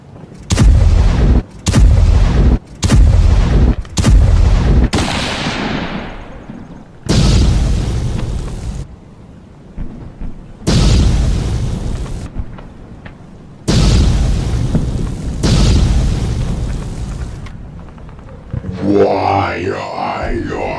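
Cannon fire and explosions in a Lego war film: a quick series of loud, close booms gives way to longer rumbling blasts separated by short silences, ending in a burst of crackling effects.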